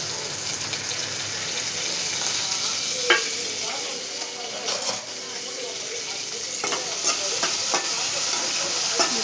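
Onions and curry leaves sizzle in a frying pan, a bright steady crackle close by with a few sharp metallic clinks and stirring scrapes scattered through, no talking.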